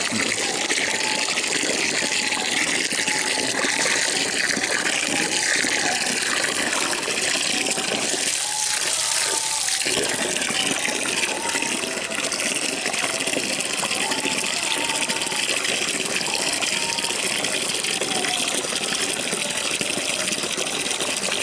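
Water in a container is stirred to dissolve decomposer and molasses, a steady rushing, sloshing churn lasting throughout with a short dip midway, moderately loud and close.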